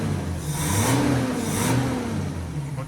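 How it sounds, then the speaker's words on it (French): A Citroën Traction 15 Six engine with a three-carburettor intake runs after carburettor tuning, a smooth, loud, close mid-pitched hum that swells as the revs rise and ease. "Je crois que ce moteur n'a jamais tourné comme ça."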